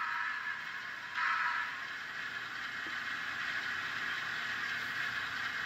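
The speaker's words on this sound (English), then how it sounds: "There's no motor noise over the actual sound of the locomotive." A Bachmann HO-scale Baldwin 4-6-0 model steam locomotive with DCC sound runs at a low speed step, giving a faint, steady hiss and hum with one brief louder swell early on.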